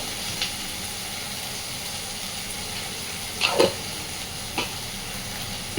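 Ground spices such as cumin powder sizzling in hot oil over sautéed onion, ginger and garlic for a taro and potato curry: a steady soft hiss with a few brief stirring scrapes and clinks, close by and fairly quiet.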